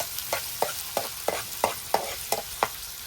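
Green masala roasting in a pan over a wood-fired stove for a pomfret fry, with about nine evenly spaced scraping stirs over a soft constant sizzle, close and moderately loud.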